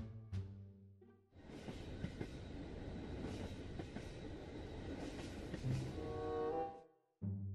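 A train runs on its rails with a continuous rumbling roar and faint wheel squeal that swells in after a quiet start, then cuts off abruptly near the end.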